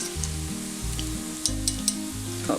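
Sliced onions fry in hot oil for Kerala chicken chukka, giving a steady, moderately loud sizzle with occasional crackles and a tonal background hum.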